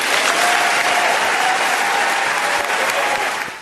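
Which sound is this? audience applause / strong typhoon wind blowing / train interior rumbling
audience applause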